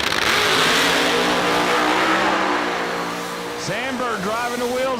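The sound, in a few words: drag race car making a pass down the strip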